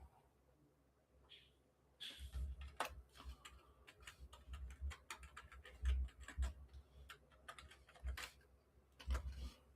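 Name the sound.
typing on a computer keyboard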